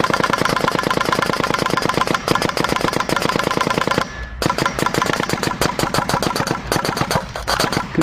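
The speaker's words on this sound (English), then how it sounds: "First I'm going to shoot the gun down so liquid CO2 is introduced to the system here." A Vibe/SP1 paintball gun running on liquid CO2 fires rapidly in a loud, continuous mechanical rattle, pausing briefly midway before resuming its fast stream of shots.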